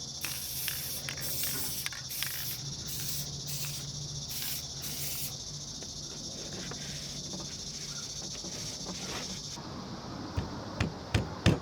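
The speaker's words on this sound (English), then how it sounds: "I like to spray glue, just enough for it not to bulge." A spray can of glue hisses in steady bursts with brief gaps, then settles into one long continuous spray, followed by a few sharp handling clicks near the end.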